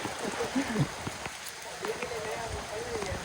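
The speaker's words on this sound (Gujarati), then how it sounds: "વરસાદ ચાલુ થયો તો." Rain falling on a hill trail at Datar hills near Junagadh, a steady broadband patter throughout, with people talking intermittently over it.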